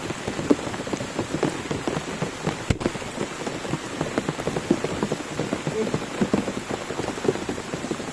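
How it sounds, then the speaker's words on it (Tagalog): Heavy, steady rain pours down in a forest during a typhoon, a dense continuous patter of drops on leaves and surfaces with one sharp crack partway through, and no voices. "hindi pa tumitila yung ulan"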